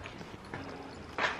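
Horses walking give a few faint, scattered hoof clops against quiet background ambience, with one sharper knock near the end.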